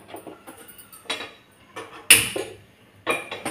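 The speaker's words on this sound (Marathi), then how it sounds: "त्यासाठी आपल्याला गॅसवर एक भांडी ठेवायचं आहे" A cooking pot is set down on a gas stove in a home kitchen, giving one sharp metallic clank among softer handling knocks and scrapes, with no talking.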